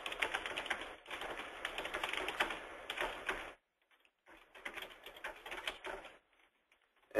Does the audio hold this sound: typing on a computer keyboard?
yes